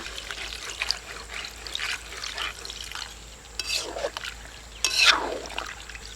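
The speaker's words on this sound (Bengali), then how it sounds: "এবার দিয়ে দিচ্ছি জল" Water goes into a pot of poultry chicken-feet and stomach curry, giving splashy pouring and stirring bursts over a low kitchen hum, close and moderately loud, with two stronger gushes toward the end.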